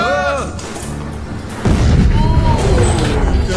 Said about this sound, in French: c'est une bombe fumigène, une explosion pyrotechnique